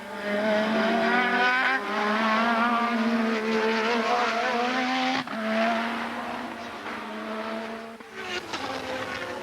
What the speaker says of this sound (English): he, like Prost, is going quicker and quicker and quicker as they get towards the end of the race.